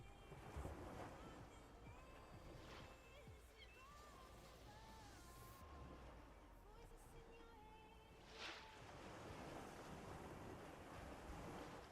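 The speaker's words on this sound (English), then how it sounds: "Or is it just the clouds and sound effects of the ocean?" Ocean waves in the video game Cloverpit wash and surge softly with wind-like noise, a faint continuous surf bed with occasional swells.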